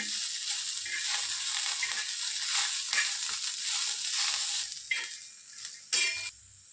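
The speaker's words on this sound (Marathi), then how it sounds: "थोडंसं जिरं 1 चम्मच. ह्याला बी चांगलं भाजून घ्या." Cumin and chillies roast in a little oil in a pan for thecha, giving a bright, steady sizzle with crackles. The sizzle dips near the end before a brief final burst, with no talking.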